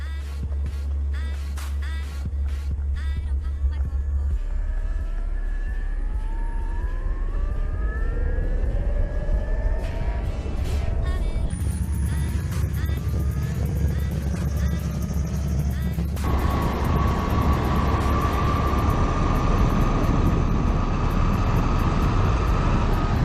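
A very powerful, torquey DIY mini electric skateboard motor whines steadily through a test ride, its pitch rising and shifting as the board speeds up and eases off, loud and continuous with road and wind rumble underneath.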